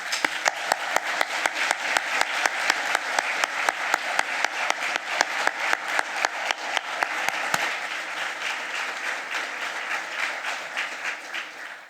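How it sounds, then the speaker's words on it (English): Conference attendees applaud in a long, dense round of clapping with a rhythmic pulse running through it, holding steady before easing off toward the end. "I ask them to stand if they are in the floor here to receive your applause."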